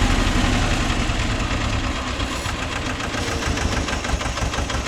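A Mahindra 265 DI tractor engine runs steadily nearby, a loud, continuous rhythmic diesel chug with knocking pulses and no talking.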